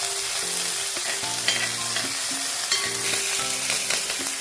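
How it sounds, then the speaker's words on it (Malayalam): Crushed garlic, green chilli and ginger frying in oil with popped mustard seeds, a loud, continuous close sizzle and crackle with stirring scrapes throughout, while steady background music plays; no talking. "കടുക് പൊട്ടി അതിൻ്റെ അകത്തേക്ക് നമുക്ക് ചതച്ച് വെച്ചിരിക്കുന്ന വെളുത്തുള്ളി, പച്ചമുളക്, ഇഞ്ചി ഇതിട്ട് കൊടുക്കാം."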